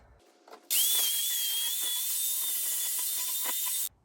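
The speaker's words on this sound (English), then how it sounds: "And then just clean it up with the grinder." An angle grinder cleaning up a cut-off sway bar bracket on a 4Runner or Land Cruiser, running in one loud, continuous high whine for about three seconds before spinning down to quiet.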